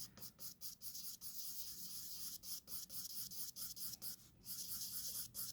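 A pencil shading a sphere drawing on paper gives a soft, rhythmic scratching and rubbing in quick repeated strokes, faint and close, with short pauses between bursts.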